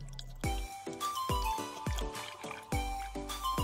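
Water poured in repeated short splashes into an empty container set on a digital balance in a quality laboratory, about eight pours at a steady rhythm, close and clear with no talk.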